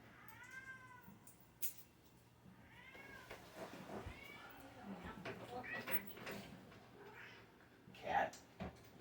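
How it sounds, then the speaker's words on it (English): A house cat meows for attention in a room, several plaintive, drawn-out cries with a few scattered knocks and shuffles, while a person speaks quietly in between. "Cat wants attention."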